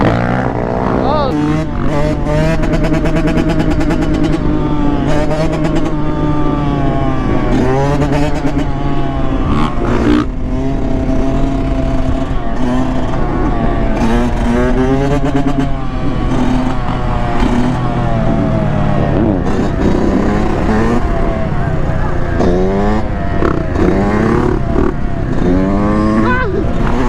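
A dirt bike revs hard again and again with a rising and falling engine whine, loud and steady for the whole stretch, with excited voices talking over it at a lot where young riders are out riding.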